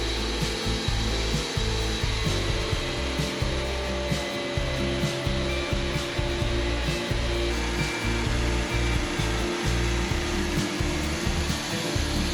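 A Wood-Mizer LT40 sawmill cuts a big ponderosa pine log, a loud continuous whine of the band blade and engine with rhythmic rumbling as the cut runs, close and steady with no speech.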